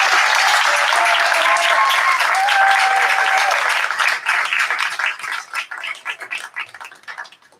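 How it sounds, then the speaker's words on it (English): Applause from the audience at a 12th grade graduation ceremony for the AST team, dense clapping with a held tone over it that thins and fades into scattered claps toward the end. "Ladies and gentlemen, another round of applause for the AST team."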